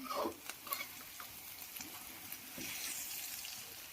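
Vegetables for veg Manchurian stir-fried in a hot pan, a soft steady sizzle with a few stirring scrapes and clinks near the start, no talking.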